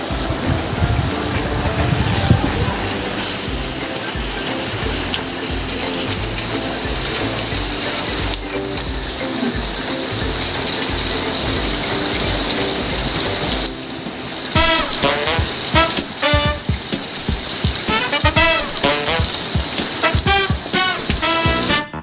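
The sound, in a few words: rinsing clothes in water during typhoon Agaton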